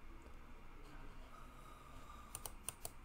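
Faint keyboard typing, with a few sharp key clicks clustered near the end over a low, steady background hum.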